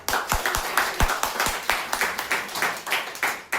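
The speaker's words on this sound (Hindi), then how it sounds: "एक बार अपने लिए भी जोरदार ताली बजाएं" Audience at an Agra training seminar claps loudly, with sharp, dense hand claps fading in and out in uneven waves.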